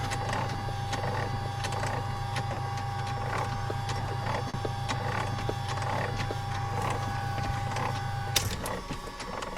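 The electric rotor trim actuator of an MU-2 aircraft runs back to center with a steady, rapid mechanical ticking whir, then cuts off abruptly near the end against a quiet cabin hum.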